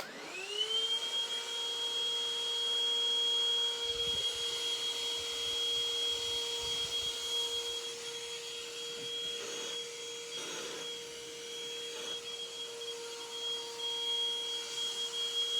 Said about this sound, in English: I've sucked it up, but I don't want to turn the Hoover off.